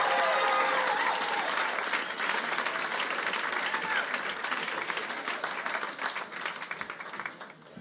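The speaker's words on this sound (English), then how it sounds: "Give him a round of applause." An audience applauds a comedian at a stand-up show, with dense sustained clapping and some crowd noise that gradually tapers off toward the end.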